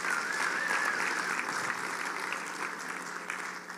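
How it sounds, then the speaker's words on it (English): Audience at a business conference breaking into sustained applause, a dense wash of clapping from a large room that stays loud and even, then eases slightly toward the end. "let's give them a round of applause"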